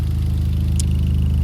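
A Hyundai Genesis Coupe with an ISR catback exhaust idles steadily, a deep, even low rumble with a constant throb and no revving, heard up close on its own.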